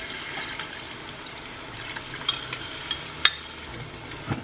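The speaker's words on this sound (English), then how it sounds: "I'm going to add my broth that I mixed with the Mamacita's Kare-Kare mix." Broth blended with Mamacita's Kare-Kare mix going into a simmering Filipino oxtail peanut stew, heard as a soft, steady bubbling sizzle with a few light clinks from a spoon or pot, fairly quiet and with no voices.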